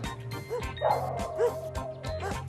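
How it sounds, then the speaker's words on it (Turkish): Several dogs bark and yip in short bursts over one another, close by, with a faint tonal hum underneath. "Galiba kuş yerine bir köpek orkestrası başlattım."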